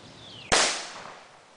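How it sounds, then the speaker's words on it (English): Miniature .58 caliber cannon firing once outdoors, a sharp single bang after a short hissing fuse, decaying quickly into quiet. "And it was a 58 caliber cannon."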